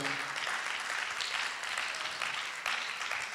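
Congregation applauding during a church sermon, a fairly soft but continuous wash of clapping heard in a reverberant hall, steady throughout without speech over it.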